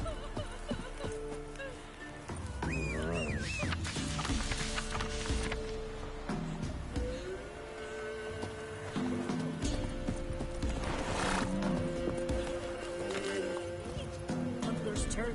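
Roach the horse in The Witcher 3 video game, hooves clip-clopping at a run along with a whinny amid game music, ambient noise and bits of speech.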